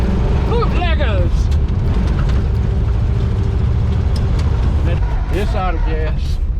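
A 1957 Ford Fairlane 500, back on the road for the first time in over 30 years and low on brakes, drives with a loud, steady engine and road roar while people whoop and talk over it.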